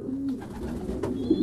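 A French meat-breed pigeon on a pigeon farm gives soft, low cooing, a brief throaty murmur heard close and alone.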